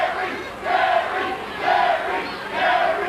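A wrestling arena crowd cheers for Jerry Lynn, a dense roar of many voices swelling in a steady rhythmic chant pattern, loud and continuous throughout.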